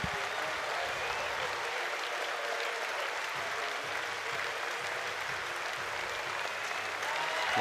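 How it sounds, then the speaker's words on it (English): Crowd at a college baseball game between Texas and Oregon roars and cheers steadily, a dense, loud wash of voices and applause filling the ballpark with no pause throughout. "listen to the crowd"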